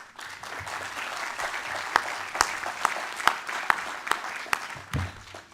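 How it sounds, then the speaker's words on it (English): An audience applauds as a speaker is welcomed to the stage at a United Nations youth event, steady clapping with sharp individual claps standing out, moderately loud and without speech. "please give him a round of applause, Mr. Ahmad Zia Mayar"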